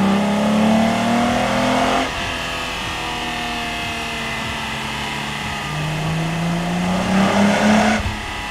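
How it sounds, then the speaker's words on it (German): A VW Jetta 2 with a VR6 engine revs hard toward the limiter, drops, then climbs again in a second loud rise, close and without talk. "es ist halt wirklich schön, diesen Motor einfach hochdrehen zu hören, mal auch bis zum Begrenzer zu gehen,"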